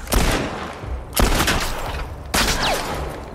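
Three heavy bursts of gunfire from a weapon in The Last of Us Part II ring out about a second apart, each loud and sharp with a trailing echo, close to the listener.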